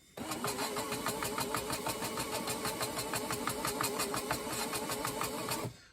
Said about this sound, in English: I can hear it sanding the valve seat.